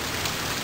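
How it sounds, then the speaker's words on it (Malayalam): Monsoon rain pours down in a brief, uniform burst of loud, dense hiss with no other sounds. "വീണ്ടും മഴക്കാലം വന്നു."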